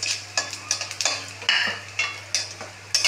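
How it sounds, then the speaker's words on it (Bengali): Cumin, cinnamon, cloves and cardamom fry in hot oil as a pan is stirred, giving a series of short, regular scraping and sizzling bursts, close and moderately loud, with no voices. "দারচিনি, লবঙ্গ, এলাচ একসঙ্গে ফোড়নে দিলাম।"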